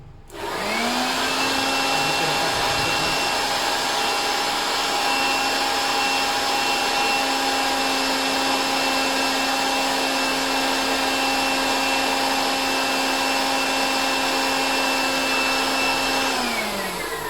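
A 600-watt hot air blower running on a home solar power setup spins up and then holds a steady, loud, close whirring roar with a constant motor hum for over fifteen seconds, with no voices.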